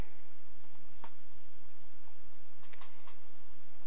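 A computer keyboard is typed on in short bursts, with a few sharp, close key clicks and taps spread across a few seconds over a quiet background hum, with no talk.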